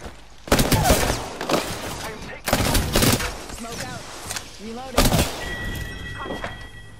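Gunfire bursts in the battle royale Apex Legends during a Flashpoint match, several loud volleys of rapid shots arriving in separate clusters, with character voices talking over the shooting.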